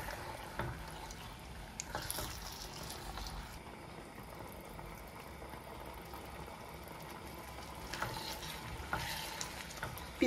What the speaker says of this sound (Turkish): Şimdi şöyle bir 6-7 dakika kadar bu şekilde biraz soteleyelim.